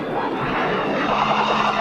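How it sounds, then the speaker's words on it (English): Fighter-bomber jets over a Vietnam War valley make a steady, droning engine roar that swells slightly toward the end, heard alone without talk. "The jets rain bombs into the valley to neutralize the enemy there."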